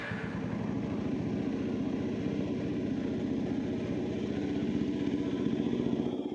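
A classic Kawasaki single-cylinder motorcycle engine runs steadily, a rapid even thumping pulse with a metallic clatter on top, close by and constant throughout with no voices.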